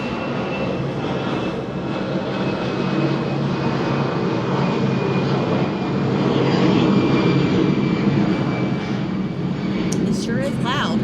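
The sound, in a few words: private jet airplane taking off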